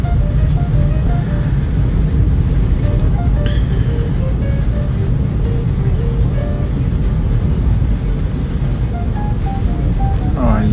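Heavy city traffic on EDSA in Cubao with the MRT line alongside: a dense, continuous roar of engines and rolling wheels, with scattered horn-like tones and occasional squeals rising over the steady rumble.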